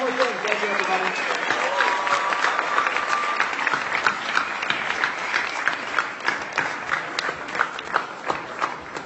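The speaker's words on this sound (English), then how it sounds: "Can we give them a big round of applause?" An audience at a Tecademics college affiliate program event breaks into a big round of applause, steady crowd clapping heard at moderate level, with a few scattered voices mixed in and individual claps standing out toward the end.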